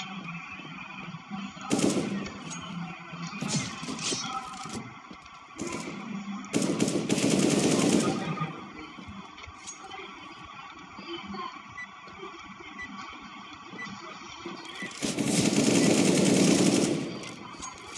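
Automatic gunfire in the video game Counter-Strike: Global Offensive, with loud sustained bursts of rapid shots separated by quieter stretches of game ambience.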